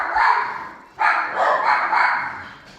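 A dog barks in a yard, several sharp barks in quick bursts, fairly close and loud with no talking over them.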